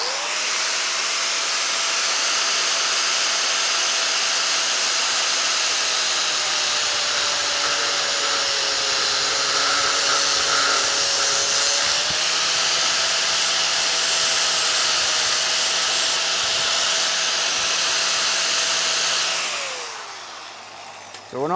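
An angle grinder cuts pipe at an angle with a loud, steady, high whine that holds for about twenty seconds, dips briefly in pitch and then winds down at the end.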